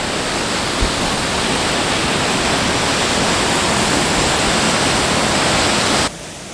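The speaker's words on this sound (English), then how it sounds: "We've just stopped off at the Paddy's River Falls." Paddy's River Falls roars as a dense, unbroken wash of falling water, loud and close, holding steady before dropping off abruptly at the very end.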